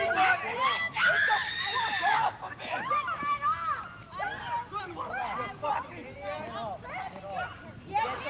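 A woman screams at the top of her lungs amid a chaotic street fight, her shrill cries rising over an excited crowd's babble and shouting, heard as if replayed from a recording.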